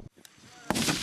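Sharp gunshots from an AK-74 assault rifle firing live rounds at a shooting competition crack out, a couple of single shots followed by a loud blast that rings into a noisy tail.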